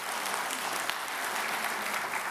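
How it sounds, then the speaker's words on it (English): A church congregation applauding after singing a chorus, steady dense clapping from many hands filling a large room, loud and continuous throughout the short stretch. "Give yourself a round of applause."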